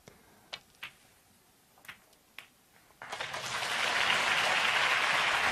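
Snooker crowd at the China Open breaks into applause after a well-played shot nudging reds out; a few sparse clicks and knocks come first, then a loud, sustained clapping swells and holds at a distance.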